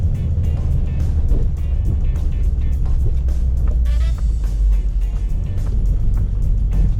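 A yellow Pontiac drives past on a wet, rainy city street in Montreal. Close, loud tire hiss and engine noise run steadily under a dense wash of traffic.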